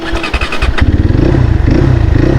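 A Crossfire RM 250 motorcycle engine runs loud and close, a few uneven bursts giving way to a steady, throbbing idle.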